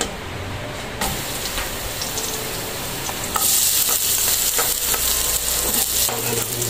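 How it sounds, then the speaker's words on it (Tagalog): Garlic sautés in a hot pan for pansit bihon with canton in a dense, rain-like hiss that surges louder partway through as it is stirred, with no voices. "Unahin natin yung bawang. Ayan. Gigisa muna tayo."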